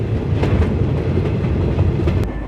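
The Simhadri Express runs near Godavari station, a loud continuous rumble heard from aboard with steady clickety-clack of wheels over rail joints and a brief squeal near the end.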